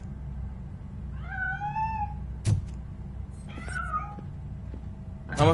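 A cat meows inside the video game Robocop Rogue City, two drawn-out cries a couple of seconds apart, fairly clear over a low game hum, with a sharp thud between them.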